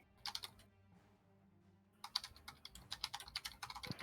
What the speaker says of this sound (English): Yeah, we can hear the typing.